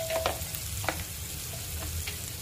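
Mutton dry sizzles and crackles in a pan, a continuous soft frying hiss broken by a few scraping stir clicks, heard close and alone.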